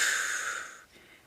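A voice imitates an old granny snoring: one long, breathy, hissing inhale-like snore that fades out, heard alone and fairly close.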